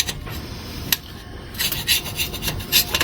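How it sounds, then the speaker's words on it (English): Rough, irregular rasping strokes of a scraper working old gasket material off a Ford flathead V8 8BA engine, in bursts that get denser and louder in the second half, close up with no talk. "Get to scraping, man."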